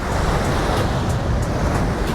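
Ocean waves wash onto a sandy beach at Fuerteventura, Spain, in a loud, steady roar of surf and hiss with no talking.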